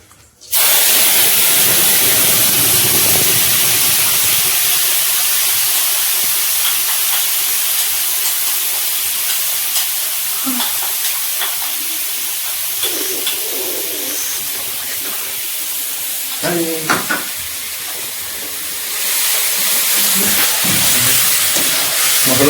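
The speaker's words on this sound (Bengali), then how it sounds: "সুন্দর করে ভেজে নিই সুন্দরভাবে মশলা ভেজে নিই" Ground spices (coriander, chili, turmeric) frying in oil in a pan for a Bengali pangas fish curry, a loud steady sizzling hiss throughout with brief crackles, close and without talk.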